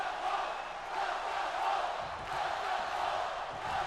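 An arena crowd in WWE 2K22 roars and cheers continuously at an NXT 2.0 wrestling event, a dense, steady wash of voices with swells, heard from inside the venue.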